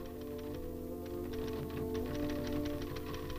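Steady typing on a typewriter, with evenly spaced key clacks in a quick rhythm over a low hum, faint and close, with no voices.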